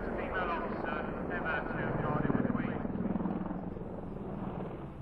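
Lynx and Apache military helicopters of the Blue Eagles team fly at the Sunderland International Airshow over a beach, a steady rotor thrum swelling slightly midway, with a voice talking over it.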